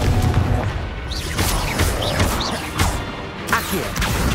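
Repeated booming spell blasts from the Confringo explosion spell in Hogwarts Legacy, several sharp crashing impacts over a busy dense combat din, loud and close.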